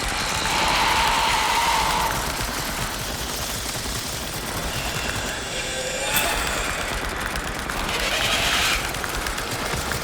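Machine gun fire in the VR game The Dark Pictures: Switchback VR, a rapid, continuous rattle of shots blended with rumbling ride noise, loud and sustained.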